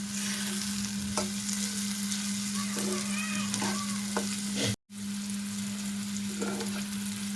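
Mixed vegetables sizzle steadily in a hot pan for a quick breakfast dish, a dense continuous frying hiss with faint stirring scrapes, loud and close, broken by one brief cut to silence.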